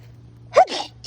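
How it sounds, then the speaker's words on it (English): Two quick sneezes close to the microphone during a walk outdoors, a sharp first burst followed right after by a second, over a faint steady low hum. "Confirmation sneezes, 2 of them."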